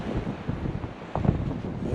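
Blizzard wind roars steadily during a heavy, wet late-winter snowstorm in Fremont, Nebraska, buffeting the microphone with a loud, continuous rumble and gusty surges.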